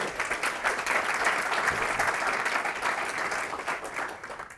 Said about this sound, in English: how about a round of applause for our sponsors?